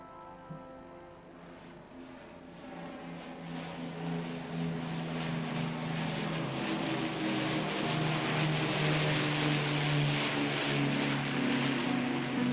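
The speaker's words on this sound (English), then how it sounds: "There is only one British Lancaster bomber left flying today" An Avro Lancaster bomber flies overhead. Its piston engines produce a droning, harmonic roar that swells gradually and holds steady and fairly loud, with no talking.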